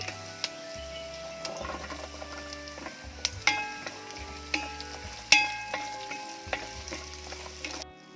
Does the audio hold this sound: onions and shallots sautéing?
yes